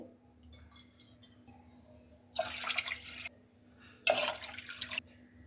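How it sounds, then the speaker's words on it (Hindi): Water poured into a cooking pot to make sugar syrup for suji halwa: two bright splashing pours of about a second each over a quiet kitchen background, with faint clinks and drips between them. "चाशनी बनाने के लिए एक देचकी लें और उसमें 3 कप पानी डाल दें।"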